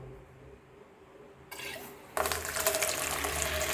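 Water pours into a basin of freshly picked longans to cover them, starting as a quieter trickle and then swelling to a steady, loud rushing fill.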